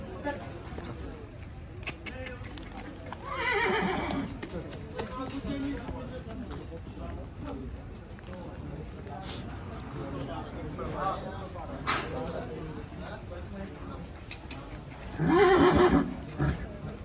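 Horses, Panchkalyani breed, whinny loudly twice, once early and once near the end, amid outdoor background noise with people talking at a horse market in Yeola.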